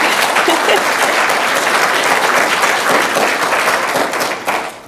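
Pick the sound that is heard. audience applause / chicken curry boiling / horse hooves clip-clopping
audience applause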